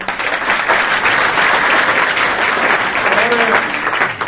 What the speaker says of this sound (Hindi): एक बार चाहूंगा उनके लिए जोरदार तालियां